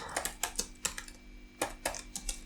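Rapid typing on a computer keyboard while coding, a close series of crisp key clicks in irregular bursts with a short pause midway, over a quiet background hum.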